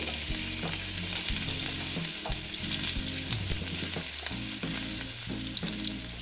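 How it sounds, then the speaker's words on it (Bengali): Chopped green chillies, with ginger already added, sizzle and fry steadily in a hot pan for a Bengali moong dal snack, with a loud, continuous crackle and occasional stirring scrapes, and no talk. "কাঁচা লঙ্কা কুচি দিয়ে একটু আবার ভেজে নিচ্ছি"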